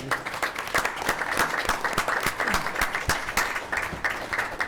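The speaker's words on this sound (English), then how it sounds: "So I want to recognize her and give her a big round of applause." Applause at a city council meeting, honoring a guest's spouse: a modest audience clapping with distinct, uneven individual claps, fairly close, steady for a few seconds.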